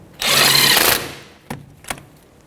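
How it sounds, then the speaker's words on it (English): A 17mm socket tightens the front brake caliper bolts on a 2006-12 Toyota RAV4: a loud, close, buzzing mechanical whir lasting under a second, followed by two short metallic clicks. "2 bolts, 17mm socket or a wrench. I'm just going to snug that up"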